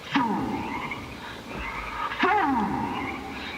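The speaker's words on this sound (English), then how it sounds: "all the little frogs are so weird" Frogs croaking, a pair of warbling, swooping calls a couple of seconds apart standing out over a dense, steady chorus of background noise.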